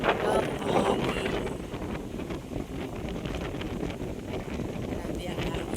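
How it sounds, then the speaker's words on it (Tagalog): Strong wind at a scenic hillside castle site in Bucal, a loud steady roar blasting across the microphone with a broadband rush, with voices faintly present under the gusts. "Grabe ang hangin."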